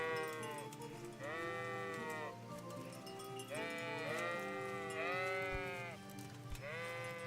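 Sheep in Kingdom Come: Deliverance bleat repeatedly in long, wavering calls, several overlapping bursts close by over a steady low background hum, with no talking.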